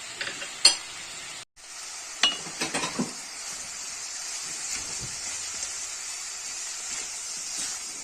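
Green onions with salt, red pepper and black pepper sautéing in olive oil give a steady close sizzle, with a few sharp clinks and scrapes of a utensil against the pan early on and no talking.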